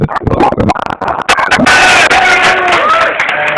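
An audience at a wrestling podcast taping breaks into loud cheering and applause, starting with scattered sharp claps and voices, then swelling into a dense, continuous roar of crowd noise.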